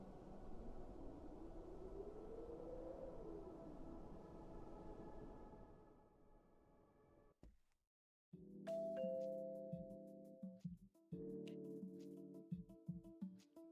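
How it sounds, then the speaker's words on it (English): A video game doorbell sounds after a stretch of droning background hum, giving a clear two-part ding-dong chime that rings out with short pauses between tones, fairly loud against a quiet backdrop. "You press the doorbell"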